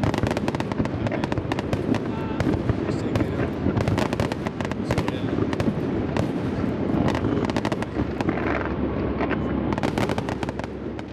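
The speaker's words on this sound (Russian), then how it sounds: "сказочными, осветившими ночное небо над темной гладью озера, фейерверками" Fireworks over a lake at night during a festival finale in Šiauliai, Lithuania, a dense continuous barrage of crackling bursts and pops, loud and sustained, with crowd noise underneath.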